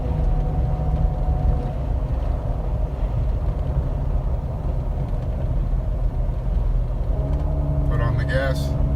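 A 2015 Jeep Wrangler JK makes an odd noise under throttle: a steady, close engine rumble with a faint tonal whine throughout, and a brief higher chirping sound near the end.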